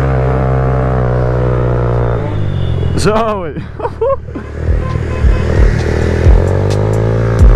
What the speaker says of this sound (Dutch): Heerlijk met open uitlaat rijden.